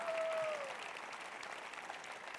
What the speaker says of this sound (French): Applaudissez par dizaines, par centaines